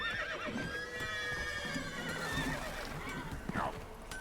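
Horses whinny and neigh repeatedly over a steady background hum in The Witcher 3 video game, with a sharper call near the end; no one speaks.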